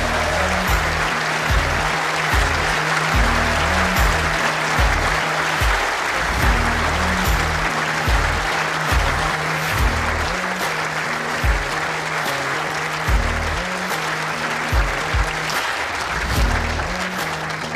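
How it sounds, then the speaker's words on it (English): Loud, sustained applause from a large crowd fills the whole stretch, with a steady thumping music beat underneath, at the World Indoor Bowls Championship mixed pairs final. "Continue that round of applause, ladies and gents, for your runners-up, Kerri-Anne Glen and Stuart Anderson."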